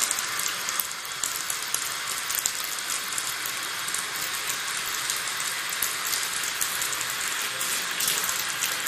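Water from a bathtub tap runs steadily into the tub, a constant close hiss and splash with no pauses.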